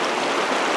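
River water rushing steadily, a dense broadband wash of flowing water close by with no break, in a cold winter setting where ice is starting to form.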